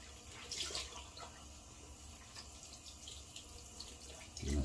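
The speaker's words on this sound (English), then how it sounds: "So I'm running the warm water in the sink." Warm water runs steadily from a bathroom sink tap during a wet shave, a continuous close hiss and splash with no talking, slightly louder at the very end.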